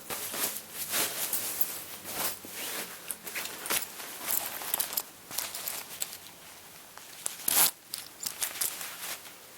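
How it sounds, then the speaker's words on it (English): A thick Lampo zipper on a Moncler down jacket being handled up close, giving soft irregular rasps, clicks and fabric rustles at low volume, with no talking. "nice thick Lampo zips."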